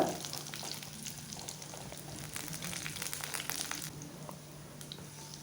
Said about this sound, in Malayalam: രണ്ട് ടേബിൾ സ്പൂൺ വെളിച്ചെണ്ണ ഒഴിച്ച് കൊടുത്തിട്ടുണ്ട് കുഞ്ഞുള്ളി നമുക്ക് തന്ന് ഗോൾഡൻ കളർ ആവുന്നവരെ വെയിറ്റ് ചെയ്യാം